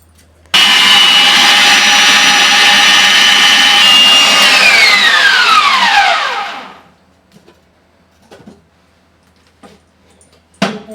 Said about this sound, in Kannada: ಸಣ್ಣಕ್ಕೆ ಮಿಕ್ಸಿ ಮಾಡ್ಕೊಂಡು ಬರೋಣ.